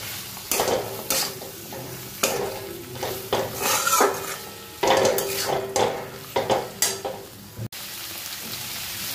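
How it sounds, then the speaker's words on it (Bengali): Fried vegetables and masala are sautéed for a paneer curry, with a spatula scraping and clattering against the pan in repeated bursts over a constant close sizzle. "এবার ভেজে রাখা সবজি সঙ্গেও মশলাটা আমি একটু কষিয়ে নেব।"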